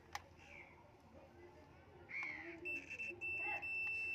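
A multimeter in continuity mode beeps while probing a hot water geyser, giving faint, sustained tones that come and go against background hiss, with a voice faintly present.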